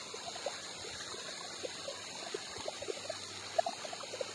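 Water flows down at Bhushi Dam in Lonavala, a faint trickling and splashing with scattered small drips and gurgles over a quiet steady wash.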